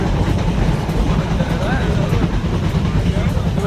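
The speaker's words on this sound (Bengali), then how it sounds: "কত ট্রেন যাচ্ছে, কত ট্রেন আসতেছে" Trains rumble and clatter through Ambala railway station in a steady, loud, continuous wash of rail noise, with people talking faintly underneath.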